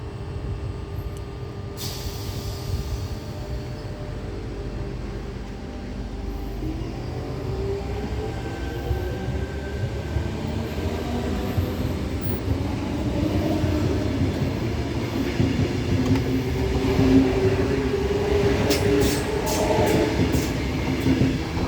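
Sydney Tangara electric train pulling away from a suburban platform, a low rumble and rising motor whine building steadily over about twenty seconds, with faint rail clatter and bright squeals near the end.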